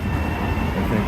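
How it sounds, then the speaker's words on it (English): A Long Island Rail Road commuter train rumbles into Woodside station, a loud, steady roar of wheels and motors filling the whole moment with no voices. "This is the train that's going to stop here"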